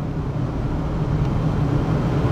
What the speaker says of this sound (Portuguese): Sobe os giros do motor.